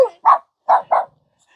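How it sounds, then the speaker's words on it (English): Dogs bark close and loud, three sharp separate woofs in quick succession after a brief opening sound, with silence between and no talking. "I'm being attacked by dogs."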